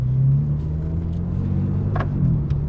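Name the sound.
BMW M4 CSL engine rumbling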